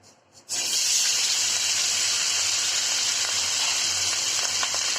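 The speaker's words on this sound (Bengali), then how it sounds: "এখন ভেজে নিচ্ছি, চুলা দিয়ে দিচ্ছি আমি" Chicken wings fry in a pan on the stove, a loud, steady sizzle that starts abruptly after a brief quiet moment and continues without letup.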